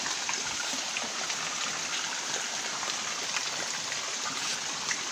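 Water flowing steadily through a canal after a heavy buildup, a continuous broadband rush with no breaks, moderately loud and close, with no voices.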